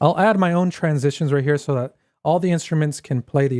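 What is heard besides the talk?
No distinct noise like a dog, phone or traffic.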